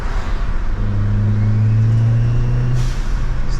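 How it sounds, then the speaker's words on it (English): An Audi A4 fitted with coilovers pulls away under throttle, a steady low engine drone rising in pitch from inside the cabin, with a brief whoosh of passing traffic near the end. "The car responds faster to the throttle."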